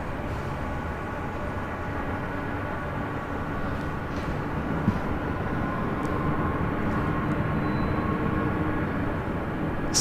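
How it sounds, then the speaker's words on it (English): Emirates Airbus A380 arriving at LAX from Dubai, a continuous, loud, droning jet roar with a steady broadband rumble sustained throughout, heard from a distance without talk. "It's Emirates, the A380 Super,"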